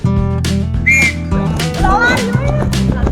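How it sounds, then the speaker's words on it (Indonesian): A sharp whistle rings out over a steady low hum, and voices and shouts follow right after. "Peluit dimulai, langsung dimulai semua."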